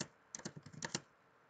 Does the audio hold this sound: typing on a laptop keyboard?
yes